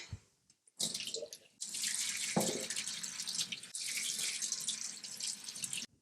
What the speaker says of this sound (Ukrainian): потрібно злити воду, а також промити її